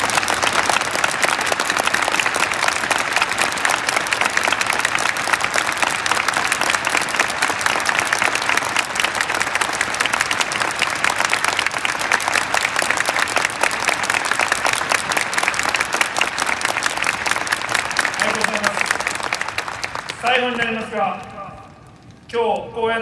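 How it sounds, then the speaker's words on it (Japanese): A packed stadium crowd at a J-League home-season closing ceremony applauds the players in a long, loud, dense roar of clapping that holds steady, then fades near the end as a voice begins over a loudspeaker. "その選手たちに今年一番の拍手を送ってあげてください"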